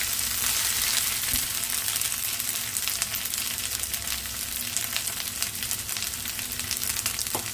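Ginger frying in hot oil for egg bhurji, giving a steady, close, even sizzle that runs unbroken throughout with faint crackles and no talk.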